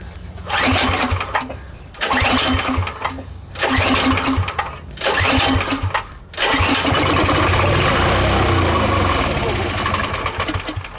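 Small engine on an abandoned go kart: four short cranking bursts with pauses between them, then it catches and keeps running steadily. The sound is loud and close.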